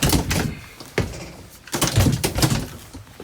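Camper door on a Rockwood 2514F trailer sliding along its track, a close series of rolling scrapes and knocks with a few sharper clunks, and no voices.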